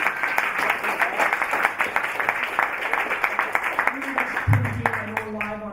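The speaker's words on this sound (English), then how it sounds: "let's clap it up for each other" Small group of friends clapping together outdoors after a barter party, dense steady applause for about four seconds, then tapering off as a voice begins speaking near the end.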